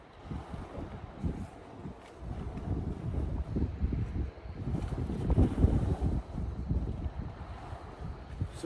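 Steady wind buffeting the microphone by the sea, a broad low rumble with gusts rising and falling throughout and faint surf-like wash underneath, no voices.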